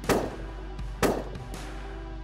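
A shotgun loaded with 3-inch BB shells fires at geese on the Hudson Bay coast. Two loud, close booms sound about a second apart, each trailing into an echo, with a fainter pop between them.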